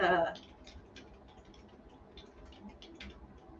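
Faint, quick clicks from a computer mouse tick along steadily over a low background murmur, following a brief louder noise at the start.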